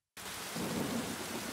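Steady rain hisses loudly and evenly in the motorcycle racing game Ride 3, set at the Nürburgring, starting abruptly and continuing without pause.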